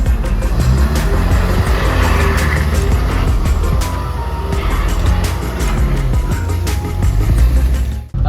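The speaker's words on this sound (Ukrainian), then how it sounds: "Фордік завівся, холостий хід, щось взагалі дуже-дуже погано тримає" A Ford car's engine runs roughly after starting in winter, a loud, close, continuous drone with a ragged, uneven texture and scattered clicks, then a sudden drop at the end.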